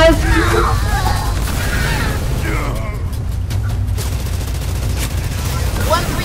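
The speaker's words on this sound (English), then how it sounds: "130 receiving fire from ground troops." Sustained gunfire and booms from ground troops firing on a Spartan unit in the PC strategy game Halo Wars 2, a dense continuous rumble of shots throughout with brief radio-style voice chatter mixed in.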